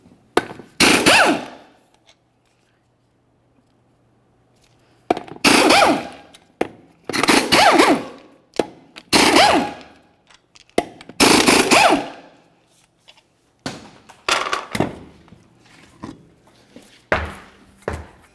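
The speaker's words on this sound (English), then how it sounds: "you're going to continue on to removing all 5 of your 19mm lug nuts" Impact wrench bursts loosening 19mm lug nuts from the rear wheel of a 2001-2005 Ford Explorer Sport Trac, loud close rattling rips repeated several times with short quiet gaps between them.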